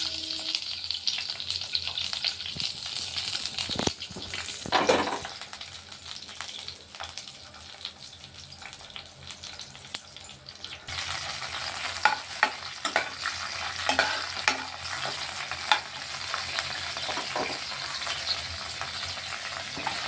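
Green chillies and onions frying in a pan for an Andhra-style prawn and okra curry, a continuous close sizzle broken by repeated scraping and clinking of a stirring spoon.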